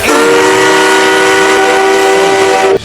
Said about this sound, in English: Steam blew into his new 3-chime steam whistle.